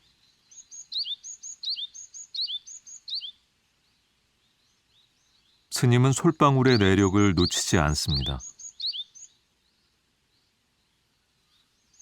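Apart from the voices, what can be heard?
great tit chicks calling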